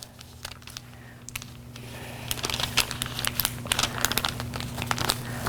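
Paper dress pattern being folded and handled, a steady run of soft crinkles and crisp rustles that grow denser and louder toward the end, close by over a low background hum.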